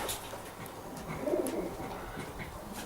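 Racing pigeons coo softly in a loft, a low continuous murmuring of several birds close by with a slightly louder swell in the middle, no talking.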